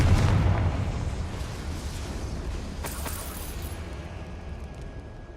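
A fiery Confringo spell blast in the Hogwarts Legacy video game: a loud, booming burst with a second crack partway through, fading into a long rumbling tail.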